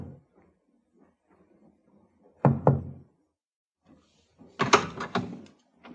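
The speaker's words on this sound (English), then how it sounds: "knocked discreetly on the door to B-24." Discreet knocking on a ship's cabin door in a 1952 radio drama: two soft groups of raps on wood, close and clear, set apart by a few seconds of near silence.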